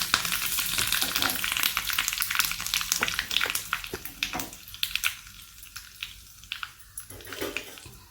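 Tempering spices in oil sizzle on a low gas flame, with crackling pops and scraping stirs close by, busy at first and thinning out toward the end.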